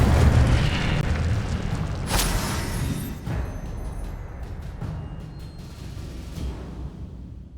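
Incendio fire spells burst in Hogwarts Legacy, a string of loud booming blasts and crackling impacts over a dense roaring wash, the biggest hit landing around the middle.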